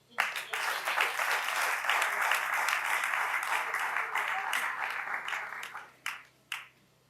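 Sustained applause from a crowd, steady and fairly loud for several seconds, then tapering off with a couple of final isolated claps.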